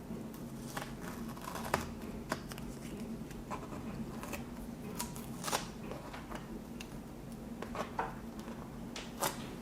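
Masking tape peeled from an acrylic painting of a garden path and castle: faint soft rustling with scattered sharp crackly ticks and peeling snaps, close and quiet, no voices.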